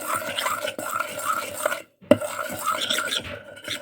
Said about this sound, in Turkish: Şimdi karıştırıyorum.